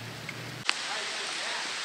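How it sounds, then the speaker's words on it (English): Rain begins falling during a motorcycle service outdoors in South Africa. A low hum cuts off abruptly and gives way to a steady, even hiss of rainfall that continues to the end. "Started to rain."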